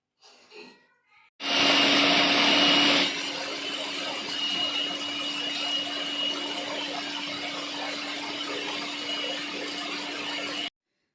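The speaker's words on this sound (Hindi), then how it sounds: "साग ठंडा हो गया, अब इसको मैं ग्राइंड करने लगी हूँ।" A blender grinding cooked mustard greens starts with a loud roaring burst, then settles into a steady grinding whir with a motor hum until it stops abruptly.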